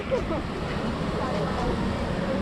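An artificial waterfall at a cafe in Bang Lamung, Pattaya, gives a dense, steady rushing roar of falling water, loud and close, with a voice faintly present over it.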